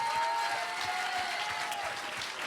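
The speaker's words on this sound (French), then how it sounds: "on peut en profiter là maintenant pour tous les applaudir" Applause from an audience at a school slam poetry show, steady and dense for the whole stretch without letup, with no voices over it.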